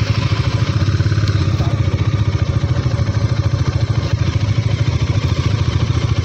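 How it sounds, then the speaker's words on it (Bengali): A Bajaj Dominar motorcycle is ridden, its engine giving a loud, close, steady rhythmic thumping throb under wind rush, continuous throughout without speech. "এখন ডমিনার চালাচ্ছি মামার বাইকটা"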